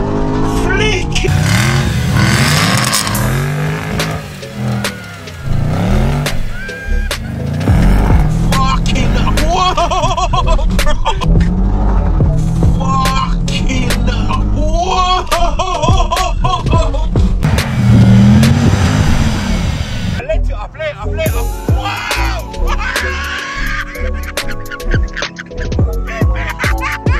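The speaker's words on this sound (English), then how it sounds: "we ain't doing nothing but drifting on fields today" A Range Rover SVR drifts across fields, engine revving and roaring close by with shifting pitch, while people shout and laugh over the loud engine noise.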